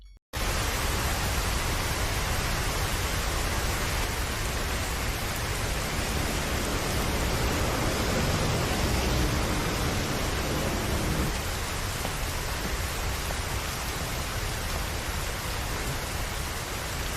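Heavy rain pours steadily onto a rooftop in a Death Note anime scene, a dense continuous hiss that is loud and close, heard without speech.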